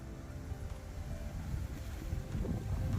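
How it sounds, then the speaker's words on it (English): Steady wind blows across an open carp fishing lake, a continuous broadband rush with gusty buffeting against the microphone, filling the whole stretch without any pauses. "So the wind's picked up"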